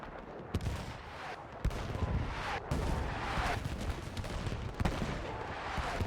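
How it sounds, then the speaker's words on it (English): Artillery strike in the video game Battlefield 6 during a squad match, with repeated sharp blasts and booming impacts over a dense, continuous roar of gunfire and explosions. "Artillery strike right onto the heads of these guys."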